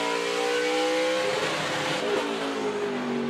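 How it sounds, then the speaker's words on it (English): A NASCAR Camping World Truck Series race truck engine revs hard into turn 3 at Martinsville Speedway, climbing in pitch, a loud continuous roar with rising harmonics, close by and with no talking. "Let's listen to him run down into turn 3. Listen to this engine."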